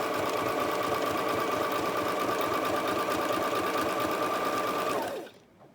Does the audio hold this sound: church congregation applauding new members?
no